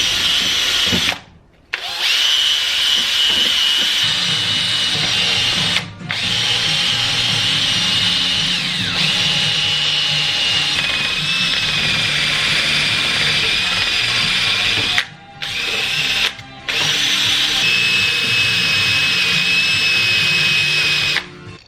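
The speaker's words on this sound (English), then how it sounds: "I've got a wire wheel like that, and I'll just clean the inside like that up." Wire wheel on a power drill scouring the inside of an HJ47 brake caliper, a loud continuous whirring grind with a few brief stops and restarts.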